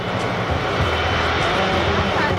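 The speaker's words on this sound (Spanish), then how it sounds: "Esperan al Beluga, uno de los aviones más grandes del mundo, un avión que no transporta pasajeros." Airbus Beluga XL oversized cargo aircraft arriving at Getafe, Madrid, its engines a steady, loud, broad roar that holds without a break from start to finish.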